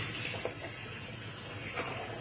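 Water runs steadily from a tap in a room, a continuous hissing wash under faint background sounds, with no talking.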